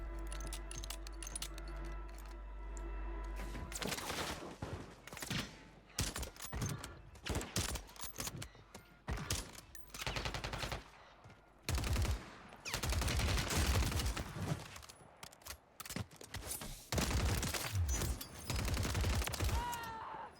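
Sniper rifle shots in the Warzone video game, several sharp loud reports at irregular intervals among dense gunfire and game noise after a quiet musical start.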